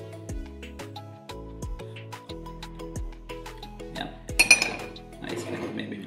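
A spoon stirs a ginger mocktail made with Fanta in a glass, giving a run of bright, clear clinks at a steady rhythm, followed by softer rustling and handling sounds close by.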